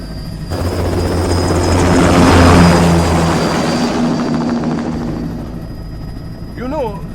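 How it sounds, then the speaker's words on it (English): An aircraft takes off in the video game Metal Gear Rising: Revengeance, its engine roar swelling loud and rotor-like, peaking, then easing off, with a brief voice near the end. "Commencing takeoff in semi-auto mode."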